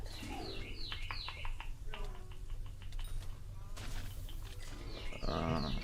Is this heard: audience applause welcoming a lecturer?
no